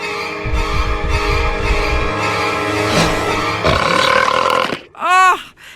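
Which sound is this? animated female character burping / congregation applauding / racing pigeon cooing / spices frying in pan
animated female character burping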